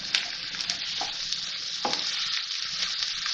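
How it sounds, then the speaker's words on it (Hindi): Carrots, onions and green chillies frying in a pan, a steady close sizzle with soft scrapes of stirring and no voices. "गाजर, प्याज, हरी मिर्च इसके साथ मैं इसको फ्राई करूंगी, गाजर को 1 मिनट के लिए।"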